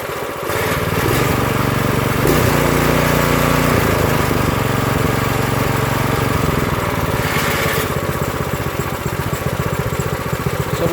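An Earthquake Victory tiller engine idles at low speed, a steady loud rumbling putter with a slight wavering in pitch, close by and continuous with no voices.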